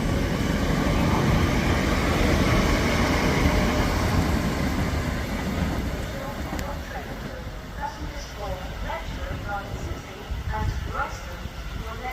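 Two Class 387 electric trains, 387-103 and 387-303, pass at Hitchin on the East Coast Main Line with a loud, sustained rushing roar and rumble that slowly eases, and a voice speaks over the passing.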